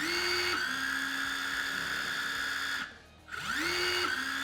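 A Milwaukee cordless impact driver runs steadily with a high whine, cuts out briefly, then spins up again and winds back down. It is loud and close.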